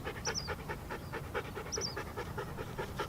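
A Siberian Husky pants in quick, steady breaths, close and fairly quiet, with a couple of faint high chirps mixed in and no talk.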